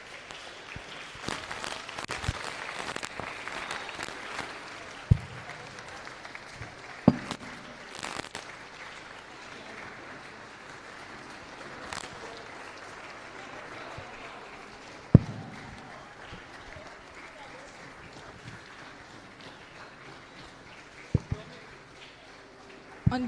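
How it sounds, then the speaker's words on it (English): Audience applause at a UN Replica 2023 school event welcoming a guest, a dense burst of clapping in the opening seconds that fades into a murmuring hall with a few sharp knocks. "Guys, please give a round of applause and welcome our guest."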